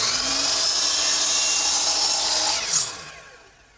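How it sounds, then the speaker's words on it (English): Hand saw in a miter box cutting a 45-degree chamfer on a sharp wooden workbench edge, a steady continuous rasping stroke close up that swells briefly near the end and then fades out. "I want to knock off this sharp edge by chamfering it"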